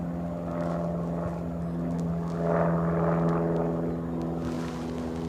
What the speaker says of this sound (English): I hear aircraft nearby. Small Cessna, so we're gonna hold right here until it clears us.